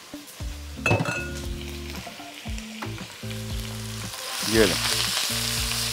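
Chicken cubes hit hot cooking oil in a pan and sizzle loudly, with a sharp clink of utensils at the start and a surge of crackling midway. A brief spoken phrase comes through over a steady low hum.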